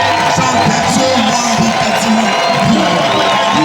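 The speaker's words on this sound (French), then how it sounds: "de le louer par de cris et des acclamations" A church congregation cheers and shouts acclamations together, a loud, dense and steady wall of crowd voices with overlapping raised calls and whoops.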